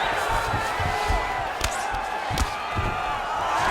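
Arena crowd noise from the EA Sports UFC 5 fighting game, a steady roar of cheering through the whole stretch with a few sharp thuds and swells as the fighters scramble back to their feet.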